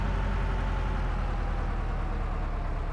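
A tank engine running in the game Arms Trade Tycoon: Tanks, a loud, steady low rumble with a constant droning hum and no breaks or speech.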